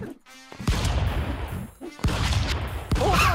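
Blasts of shotgun fire in the stick-figure brawler Stick Fight: The Game, several loud sharp bursts spaced across a few seconds amid chaotic in-game noise.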